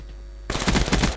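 Sustained burst of assault rifle gunfire from Call of Duty Black Ops 2 Zombies gameplay, a loud rapid stream of shots that cuts in abruptly after a brief quiet lead-in.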